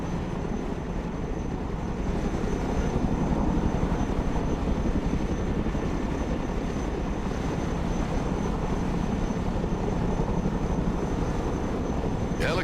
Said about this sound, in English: Helicopters are impressive machines. Boy, are they noisy.